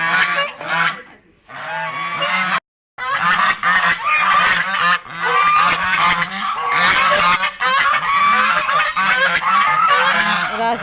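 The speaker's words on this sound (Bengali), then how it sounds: "এই যে রাজহাঁস," Domestic geese on a farm honk loudly and repeatedly, a near, dense chorus of overlapping calls that runs almost without pause except for one brief silent gap.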